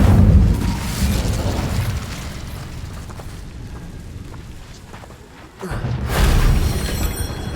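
Incendio fire spell blasts in Hogwarts Legacy, a loud booming burst that fades into a rumble, then a second fiery eruption near the end, close and without talk.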